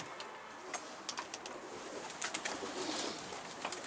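Pigeons coo softly over a steady outdoor hiss, with a few brief bird calls popping up now and then.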